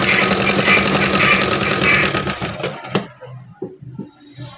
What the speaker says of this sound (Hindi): फिर हम सिलाई करेंगे